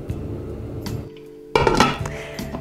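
Metal clatter of a lid set onto a cooking pot of pork knuckle and hot water, a sharp clang followed by brief rattling, close and fairly loud.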